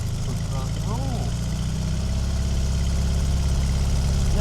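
1966 Karmann Ghia Cabriolet engine idling after a hot start, a steady low rhythmic chug held close and even for the whole stretch, with faint background sounds briefly over it.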